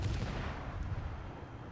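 Russian naval guns firing in World of Warships, a low, muffled rumble of distant heavy cannon booms rolling on quietly and steadily.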